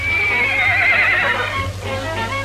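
A horse neighs loudly and close by, a long wavering whinny that trails off and then rises again briefly, with faint hoof clops underneath.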